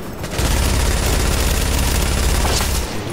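Sustained automatic gunfire from a firearm in a shooter video game, loud and continuous for about three seconds without talk.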